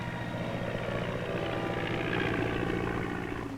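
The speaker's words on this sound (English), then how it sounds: "the helicopter. Chopping its way over mountain and river and hurdling barriers" A helicopter in flight during the Korean campaign era, a steady droning rotor and engine drone holding moderately loud throughout, with no voices over it.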